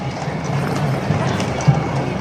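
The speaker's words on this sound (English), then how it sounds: "the Czech coronation coach, it's a landau pulled by 12 horses" A team of twelve horses pulling the Czech coronation landau, a ceremonial coach, at a city procession, heard as steady hoof clip-clops on pavement under a loud crowd murmur.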